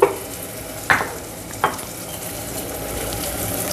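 Chili powder being stirred into frying onions for Andhra egg curry, three sharp spoon scrapes against the pan over a continuous close sizzle, no voices.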